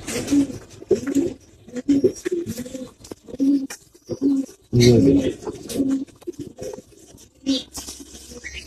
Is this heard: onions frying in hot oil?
no